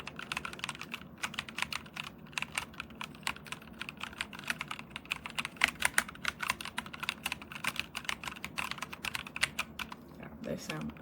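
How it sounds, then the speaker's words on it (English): Steady rapid typing on a DIERYA T68SE 60% mechanical keyboard with brown switches, dense irregular clacks close to the mic, some keystrokes louder than others, running throughout with no talk. "I ordered the brown switches and this is what they sound like."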